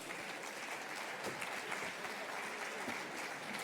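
Applause from an audience in a hall, steady and fairly faint, a dense even patter of many hands held for several seconds without a break.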